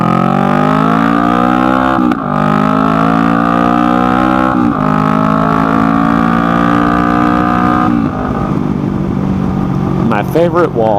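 A motorcycle engine on the ride home, passing a wall, holding a loud, steady drone with pitch climbing through gear changes, then the tone shifts as the wall reflects it back before the sound fades.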